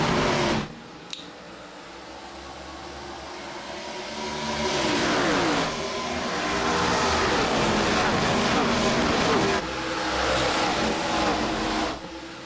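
A pack of race cars on a video game's Daytona oval roars back to full throttle at a restart, with engines surging and swelling together, loud and sustained, while a commentator talks over the field.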